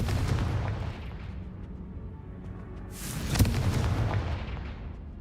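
In the video game Hogwarts Legacy, the Confringo fire-blast spell erupts with a rumbling explosive boom, a sharp burst swelling at mid-clip over a continuous low rumble before fading away.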